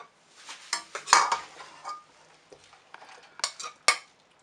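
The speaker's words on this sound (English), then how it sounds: "Just gonna plate these up." Pinakbet being plated onto dishes, with scattered clinks and scrapes of a utensil against plates and a pan, several sharp taps standing out among softer shuffling, no voices.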